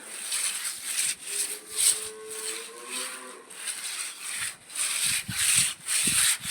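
Moss and green algae are scrubbed off a floor in loud, close, rhythmic back-and-forth strokes, each rasping pass rising and falling in turn, with no talking.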